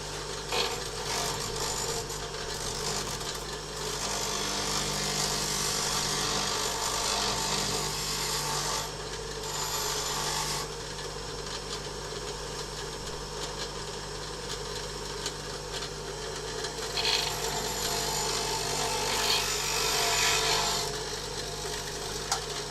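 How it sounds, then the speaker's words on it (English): A grinder works along metal edges to prepare them for welding, giving a long, loud, continuous rasping, whirring grind that stays steady with slight shifts in intensity and no talking. "Now there's a finer grinding there."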